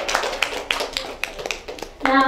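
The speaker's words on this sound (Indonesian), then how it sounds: "Tepuk tangan untuk Mas Rio." A brief patter of clapping hands at a student debate, a few people applauding sparsely, followed by a louder burst of sound at the end.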